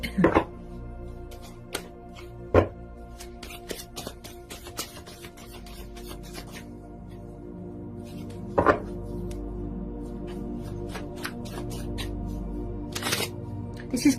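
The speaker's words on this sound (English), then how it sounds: "Give it a quick shuffle." Tarot cards shuffle in soft riffling, tapping bursts of handling that come and go, with a few sharper clacks at the start and later, under a low room hum.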